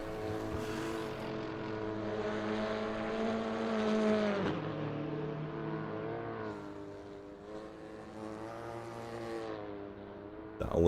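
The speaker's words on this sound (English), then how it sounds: "Why does my car sound like a Cessna?" A video game race car engine at Sebring during an endurance championship round drones steadily with a buzzing, propeller-plane-like tone, its pitch rising and falling slightly, with no talking.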